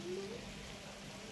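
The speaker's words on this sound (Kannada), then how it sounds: "ನಿಮ್ಮ ಏರಿಯಾಗೆ, ಲೇಔಟ್ ಒಳಗಡೆ ಫುಲ್ ಮಳೆ." Heavy rain falls over a residential layout as a faint, steady broadband hiss, fairly distant and continuous, with a brief thin tone near the start.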